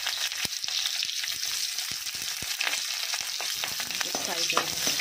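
Onions sizzle and fry in a hot kadai with green chilli, under a steady hiss, while sharp clicks of stirring break in at intervals and no one speaks.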